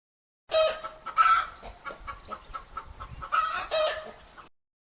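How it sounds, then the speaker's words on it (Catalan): A hen clucks and squawks close by, a few sharp calls mixed with softer clucking, no talking. "Gallina."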